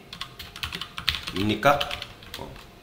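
Code being typed on a computer keyboard: quick, uneven runs of light key clicks up close, with someone talking briefly over them.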